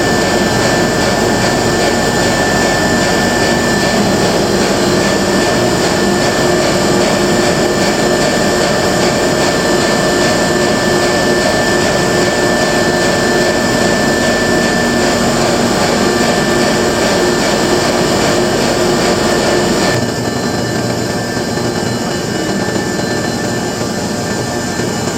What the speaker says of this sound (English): the engine is slow turning